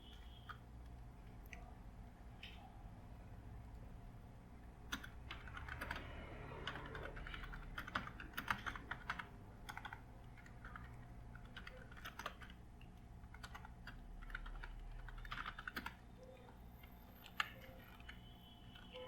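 Computer keyboard typing while text is entered in Notepad, a steady run of quiet, close keystroke clicks at an irregular pace, soft and alone with no voices.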